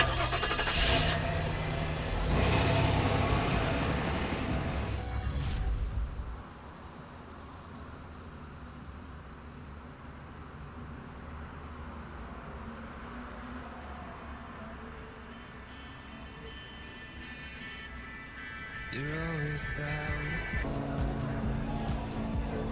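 A car engine revs hard and the car pulls away, loud at first, then fading to a low rumble and a long quieter stretch before engine noise rises again near the end. A faint tire squeal may be heard.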